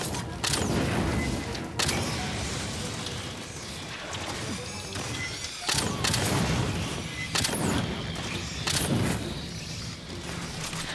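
Sustained automatic weapon fire in the sci-fi shooter Aliens: Fireteam Elite, a dense rattling clatter like an automatic staple gun, loud and continuous with heavier booming impacts breaking through at intervals.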